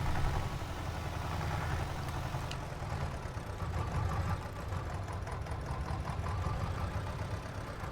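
A tractor engine running steadily in Farming Simulator 22, a continuous low rumbling drone at even loudness throughout with no voices.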